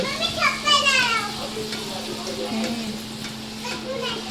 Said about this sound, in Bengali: লুচি ভাজা স্টার্ট হয়ে গেছে এই যে লুচি হচ্ছে